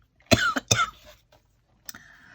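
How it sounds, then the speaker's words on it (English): A pollen tickle brings on a short run of dry, close coughs: two sharp bursts in quick succession, a pause, then a softer single cough trailing into a faint throat sound. "Oh, I still have this little tickle cough thing."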